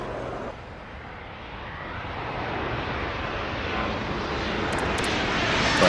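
An airplane taking off in the airport video game Airport Madness, a steady broadband engine roar that slowly builds in loudness, with a few brief high electronic blips near the end.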